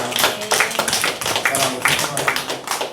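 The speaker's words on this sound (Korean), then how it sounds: "우리 다시 한번 환영의 박수" A Sunday church congregation gives welcoming applause to new members: a short burst of clapping from many hands, mixed with voices and a speaker talking over it.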